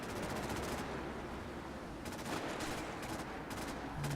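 A custom-made weapon in modded Fallout 4 fires rapid automatic bursts, several separate volleys over a dense, steady noise bed.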